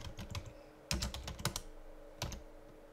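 Keys clatter on a computer keyboard while a command is typed at a Linux shell, in several quick bursts of clicking separated by short pauses.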